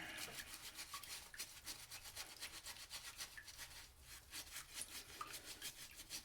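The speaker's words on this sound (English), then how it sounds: "I just use the bar like this and start scrubbing." A toothbrush rubbed on bar soap scrubs a white stuffed toy in quick, rhythmic back-and-forth strokes, a close, soft bristly rasp repeating steadily with brief pauses, no talking.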